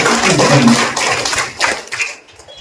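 An audience in a hall at a Kannada cultural award ceremony claps to honour a person. The applause is close and fairly loud, then fades out within about two seconds.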